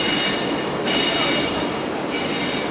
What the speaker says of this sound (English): The Trenitalia, Regior's high-speed train, 9561, from Torino Porto Nuova, with scheduled arrival at 10:55, is now arriving at platform 2.